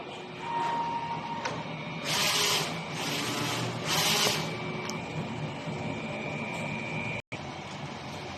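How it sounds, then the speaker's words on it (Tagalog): A DTF printer runs a nozzle test after a heat clean, its print head carriage moving in several steady, close, mechanical passes of whirring and rubbing, with short pauses between them and no talking. "Nozzle test."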